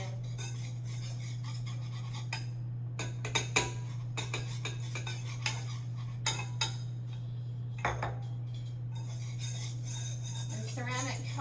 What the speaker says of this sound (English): we want to whisk that while we add that in